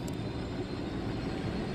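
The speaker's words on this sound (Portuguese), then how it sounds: "Vamos parar o nosso helicóptero numa base de rebeldes." Helicopter flying in the video game Ghost Recon Wildlands, a continuous dense rotor and engine rumble that stays steady and close for the whole short stretch, with no talk over it.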